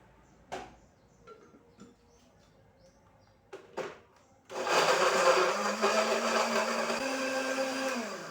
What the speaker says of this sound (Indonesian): Oke langsung aja ini Bunda blender.